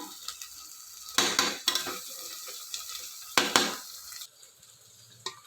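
Mutton is added to fried onions in a pan, bursts of sizzling and scraping stirs in uneven surges between quieter pauses, close and moderately loud, with no talk.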